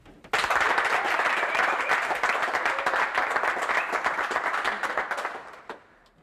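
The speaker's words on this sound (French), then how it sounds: "je voudrais que vous applaudissiez très très fort pour lui" Audience at a show bursts into loud, dense applause that starts abruptly, holds steady for about five seconds, then fades out near the end, with a faint voice at the close.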